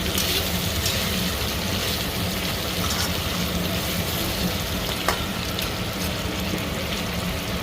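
Sweet pumpkin pieces frying in a pan, with a steady, dense sizzle that sounds almost like rain and a faint clink near the end. No voices are heard.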